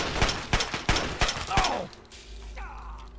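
Gunfire in the video game Fallout 3: a loud, rapid string of shots at an uneven rhythm for almost two seconds, then a fading tail and quieter game ambience.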